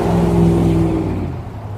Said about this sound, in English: I live where a lot of big trucks come.